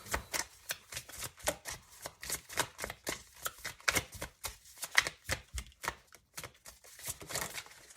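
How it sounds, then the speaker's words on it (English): Tarot cards are pulled and shuffled by hand, a close series of soft papery riffles and slaps in an uneven rhythm, fairly quiet, with no talking. "I'm just going to try to pull 1 or 2 more cards for you guys"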